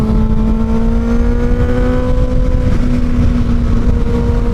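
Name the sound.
Kawasaki Ninja ZX6R 636 motorcycle engine accelerating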